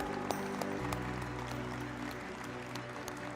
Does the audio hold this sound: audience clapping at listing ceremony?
yes